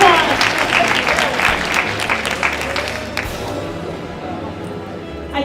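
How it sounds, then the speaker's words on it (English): A crowd at an aesthetics clinic's evening showcase applauds a woman on stage, loud clapping at first that gradually thins and fades, with some voices underneath. "Give her a round of applause."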